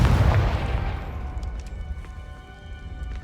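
Confringo blasting spell going off in Hogwarts Legacy: one deep, loud boom at the start that rolls and fades into a ringing tail, with no voices.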